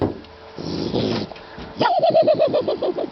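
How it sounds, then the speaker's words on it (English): A dog whimpers and growls at close range, then lets out a rapid series of high, yelping barks, with no one talking. "That sounds like a dog coming."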